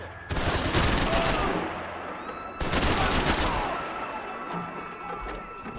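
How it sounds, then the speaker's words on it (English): Heavy gunfire from enemies firing down from above in Max Payne 3, two dense bursts of rapid shots with crashing impacts, loud and close, fading into a lighter scatter of distant shots. "People above me shooting down at me from weird angles and stuff."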